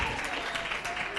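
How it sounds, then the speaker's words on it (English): Brief audience applause welcoming a speaker, a dense, fairly quiet patter of many hands under some talk. "And we can welcome her with a round of applause"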